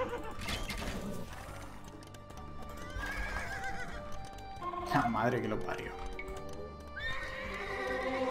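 Horses in Age of Empires II: Dynasties of India, with repeated whinnies and neighs over hoof clip-clop and game ambience while someone talks.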